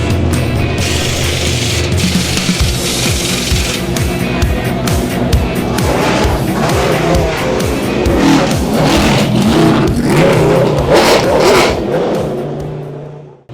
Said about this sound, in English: And Tommy Dreesy in that car right now, all locked in, ready to go